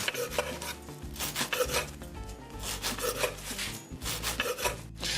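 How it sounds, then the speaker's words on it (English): Bread being cut into cubes and slices with a knife for chocolate Kahlua bread pudding, giving repeated rasping, rubbing strokes close up that come in steady bursts, with no talking. "so I'm just gonna make slices just like this"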